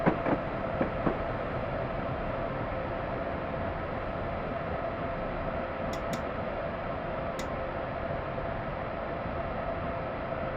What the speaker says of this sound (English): Northbound MARC train.